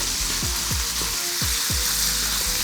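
Pork caramelizing in a hot pan for jjajangmyeon, a steady loud sizzle with repeated scraping strokes of stirring, close and continuous with no voices.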